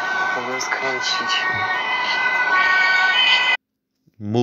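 A loud wailing police siren with layered tones sounds continuously in a video game while a person talks over it, then cuts off abruptly before talking resumes.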